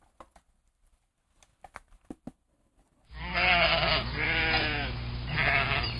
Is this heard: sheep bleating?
yes